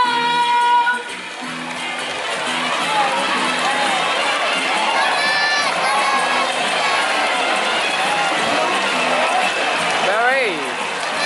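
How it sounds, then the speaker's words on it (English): Crowd of supporters at a bird park cheering and shouting for birds in a fruit-gathering game, a busy, steady roar of mixed voices with whistles, continuous and fairly close throughout. "So supporters, remember to cheer for the birds."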